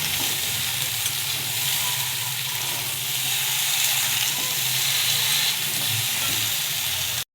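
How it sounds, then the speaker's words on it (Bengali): Steady sizzling of flat beans, eggplant and radish frying in a pan over low gas flame, a continuous bright hiss with faint stirring scrapes, close and even throughout, no voices. "এগুলো খুব ভালো করে ভাজা হয়ে গেছে"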